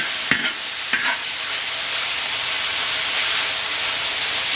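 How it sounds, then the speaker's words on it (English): Pork and baby bella mushrooms sizzle in avocado oil in a pan, with a couple of quick scraping stirs at the start and then a steady, even frying hiss. "Just start stirring that"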